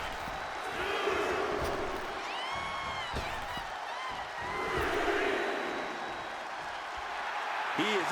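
An arena crowd in the wrestling game WWE 2K25 keeps up a constant roar of cheering, swelling in waves, with a commentator's voice talking over it.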